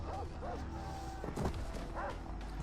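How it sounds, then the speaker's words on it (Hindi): Dogs in the video game Far Cry 3 bark and yip in short bursts as they chase the player, heard faintly under game ambience. "कुत्ते भी आ रहे हैं पीछे।"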